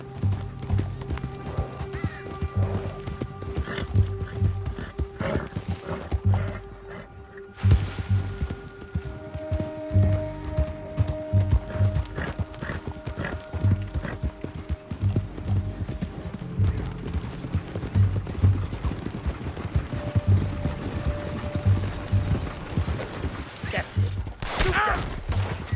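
Horse hooves clip-clop at a gallop across open ground in Red Dead Redemption 2, rhythmic and close, with whinnies, occasional thuds and faint voices over the ride.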